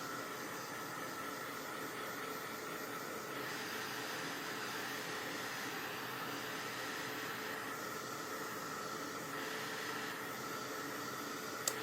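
A craft dryer blows continuously over a chalk-painted project, a steady close whooshing hiss that holds level with no talk.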